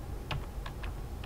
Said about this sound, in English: I can just type in here